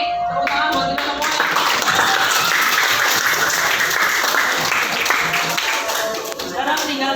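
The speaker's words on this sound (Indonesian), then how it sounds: "Tepuk tangan buat kita semua." A classroom group claps together in sustained, lively applause lasting several seconds, with some voices calling out over the clapping.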